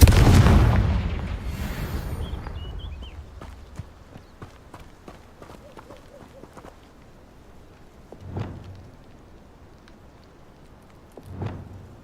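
A Confringo fire blast spell in Hogwarts Legacy erupts in a loud booming burst at the start, followed by fading crackles and two later muffled thumps.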